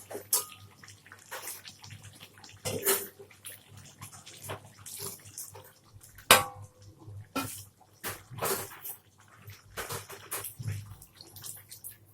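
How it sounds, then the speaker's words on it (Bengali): Water poured into a pan of browned, cooked-down chicken, splashing in a series of short bursts and gushes spread across the stretch with quiet pauses between. "এবার আমি জল দিয়ে দেবো।"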